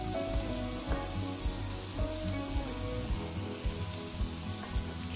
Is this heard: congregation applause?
no